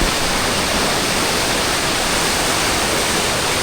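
Water rushes continuously at Keralamkundu Waterfall in Malappuram, a loud, dense, steady roar close by with no pauses or voices.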